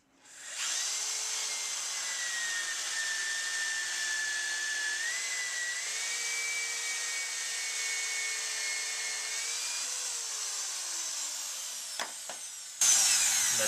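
A power drill whines steadily while cutting through a pilot hole in wood for a bird house, its pitch shifting slightly under load for about ten seconds before winding down, followed by a couple of faint knocks.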